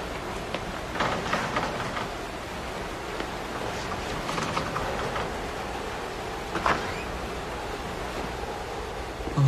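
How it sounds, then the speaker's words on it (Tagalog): Steady heavy rain hisses continuously, a dense wash of noise with occasional louder splashes, no voices. "lakas talaga ng ulan"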